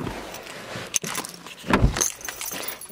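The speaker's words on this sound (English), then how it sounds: "Key ignition." Keys rattling as the key turns in the ignition of a 2012 Mazda3 Sport GS automatic, a brief close metallic jingle and click inside the car, then a soft thump, with no talking.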